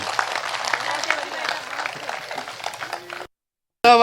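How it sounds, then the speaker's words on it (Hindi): Audience at a Hindi comic poetry gathering in Morena claps loudly and steadily for about three seconds, a dense crowd applause that stops abruptly, followed by a brief burst of another sound. "मैं चाहता हूं एक बार मेरे कहने से हिमांशु भवंडर जोरदार तालियां बजा दें"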